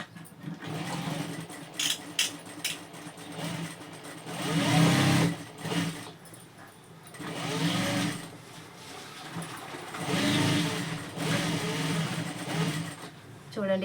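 A sewing machine stitches double seams on a blouse in bursts of rapid whirring that start and stop several times, with someone talking between and over the runs.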